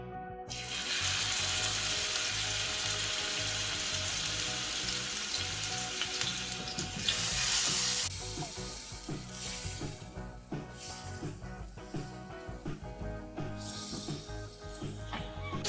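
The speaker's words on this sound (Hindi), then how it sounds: "आपने कबाबों को शैलो फ्राई करना है।" Chicken kebabs shallow frying in oil in a pan over low flame, a loud continuous crackling sizzle with occasional stirring scrapes and clinks, no talking.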